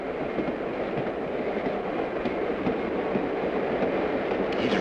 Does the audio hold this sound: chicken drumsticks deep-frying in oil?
no